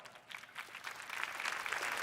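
An audience claps in a short burst of applause that swells in loudness over about two seconds, a dense patter of many hands with no voices.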